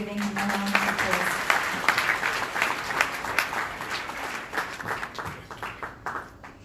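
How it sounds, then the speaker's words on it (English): Audience applause at a fifteenth-anniversary celebration of Islamic Relief South Africa in Johannesburg, a sustained round of clapping from a crowd in a hall that fades slightly toward the end, with some voices mixed in. "Please join me again in giving him a round of applause."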